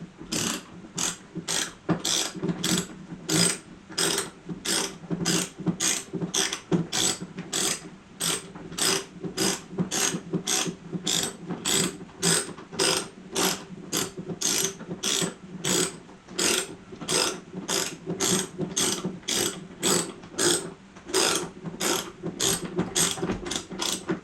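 A hand ratchet turns steadily while tightening the trunk strut on a Can-Am Spyder, giving a long run of evenly spaced, close, crisp clicks with no talk over them.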